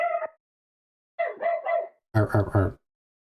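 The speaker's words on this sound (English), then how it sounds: "I hear the dog" Dog barks in three separate bursts, one short bark, then a quick double or triple run, then a louder, fuller volley, each close by and separated by silence.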